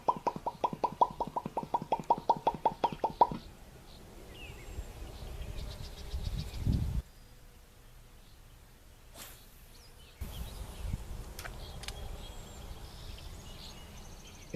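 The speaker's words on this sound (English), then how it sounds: "The jitterbug is a surface lure that floats. It wiggles back and forth, making a popping noise as it moves." A floating Jitterbug surface bass lure is reeled across the water, giving a quick, rhythmic series of faint plopping pops that then give way to quiet outdoor ambience with occasional soft splashes.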